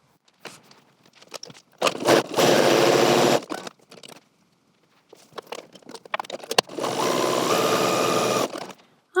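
A sewing machine runs stay stitching along the deep V neckline and armholes of a dress pattern piece in two steady bursts of a few seconds each, with quiet handling of the fabric between them.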